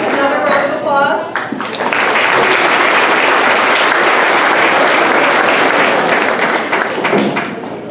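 Audience at a middle school academic awards ceremony breaks into loud, sustained applause for eighth grade students, following a brief spoken moment at the start and tapering slightly at the end.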